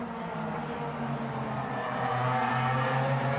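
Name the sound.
Mitjet race cars racing on track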